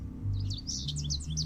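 Chirping birds in a video game twitter continuously in rapid, bright tweets over a low droning hum, fairly close and with no voices.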